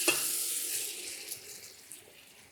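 Tomatoes dropped into a pan over softened onion and garlic, a loud burst of sizzling at first that settles into a steady, fading fry with a couple of faint stirring knocks.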